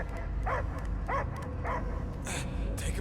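A dog barks in a Guardians of the Galaxy video game, sharp repeated barks at close range with a game soundscape running underneath.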